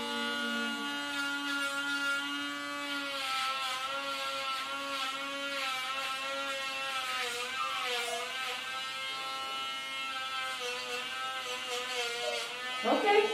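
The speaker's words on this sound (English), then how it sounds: "now we're going to come to dremeling" A Dremel rotary tool grinds a dachshund's nails with a close, steady high-pitched whine that wavers slightly in pitch as it presses against each nail. It runs continuously and ends with a brief handling clatter.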